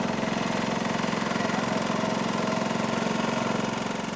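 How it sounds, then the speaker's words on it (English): The engine of a water well drilling rig runs in a steady, close, throbbing drone with a rhythmic low pulse and no pauses. "This is Ryan's drilling rig in operation."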